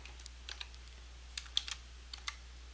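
Keys tap on a computer keyboard in short, irregular clusters of crisp clicks. The clicks are quiet and close, with no voice present.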